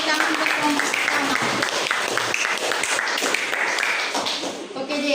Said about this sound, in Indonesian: Berikan tepuk tangan untuk kelompok pertama.